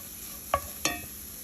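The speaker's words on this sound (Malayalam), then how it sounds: "എന്നിട്ട് നമുക്ക് ഇതെല്ലാം കൂടെ ഒന്ന് ചെറുതായിട്ട് വാട്ടിയെടുക്കാം" A spoon scrapes twice against a pan of sautéing spices, garam masala, turmeric and chilli powder for a methi leaf potato curry, two quick close clinks over a faint low sizzle.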